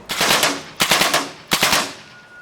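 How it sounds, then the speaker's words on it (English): A RAP4 paintball marker with an electronic trigger fires in three-shot burst mode: three loud, close bursts of rapid pops, each with a short gap between, and no talking. "Now we're going to move it into the 3-shot burst mode."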